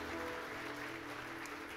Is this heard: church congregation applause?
yes